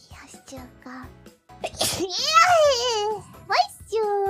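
A quick, high-pitched sneeze bursts out close by, with excited childlike voices chattering and squealing around it.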